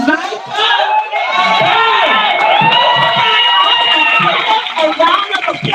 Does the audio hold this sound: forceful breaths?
no